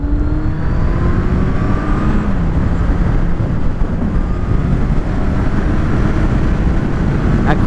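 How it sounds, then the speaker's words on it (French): A Yamaha XJR 1300 motorcycle accelerates on the road, its engine note climbing steadily. It sounds loud and close under heavy wind rush, with no talk. "si je continue à accélérer je vais perdre mes chaussures là"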